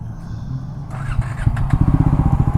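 A Triumph Scrambler 400 X motorcycle engine idles low and uneven at low speed, then turns into rough, sputtering chugs as it struggles close by, with no talk over it.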